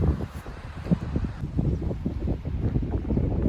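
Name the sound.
strong wind outdoors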